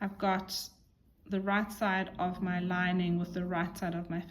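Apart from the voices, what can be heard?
None of the usual background noises is heard.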